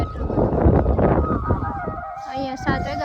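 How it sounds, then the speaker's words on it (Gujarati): A village peacock calls in the evening, its loud nasal cries coming after a voice speaks nearby. "અહીંયા 7 વાગ્યા એટલે મોરલો બોલે."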